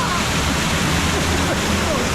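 A big waterfall roars beside a wooden roller coaster, with loud, steady rushing water from start to finish and a voice faintly audible through it.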